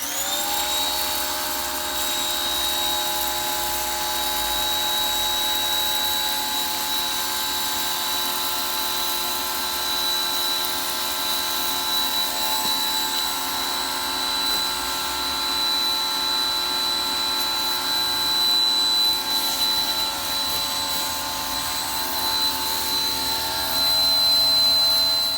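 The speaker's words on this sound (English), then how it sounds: "the noise in the background is from the pressure washer" A pressure washer spraying a car wheel during detailing gives a continuous, even, high-pitched hiss and whine that holds steady for the whole stretch with no talking.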